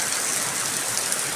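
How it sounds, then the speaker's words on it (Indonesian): Heavy rain pouring outside a university faculty administration office in February, a dense, steady hiss of water close by, continuous and loud with no voices. "hujan deras di Fakultas Pertanian di depan kantor administrasi"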